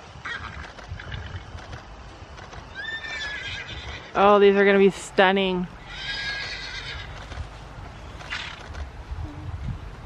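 Horses on a farm whinny, with two loud, close neighs in the middle and fainter calls around them, while people talk nearby.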